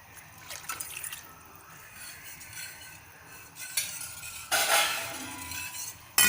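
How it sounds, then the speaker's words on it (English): A glass of water poured into a pot of cooking dal in a home kitchen, with light clinks and drips followed by a louder, close rush of pouring near the end, no talking. "I'll add some more water, about a glass of water."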